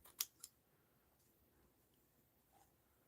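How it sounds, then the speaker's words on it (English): Scissors cut a small triangle out of a postcard with two sharp, quick snips close by, followed by quiet near-silence. "Let's just cut a little triangle here."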